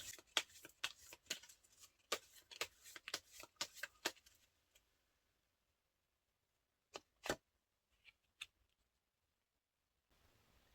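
Tarot cards are shuffled close by in a rapid flurry of quiet crisp clicks for several seconds, followed by a long silence broken by a few isolated card snaps.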